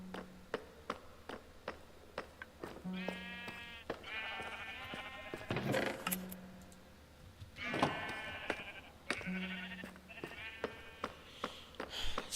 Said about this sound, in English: Sheeps are over here.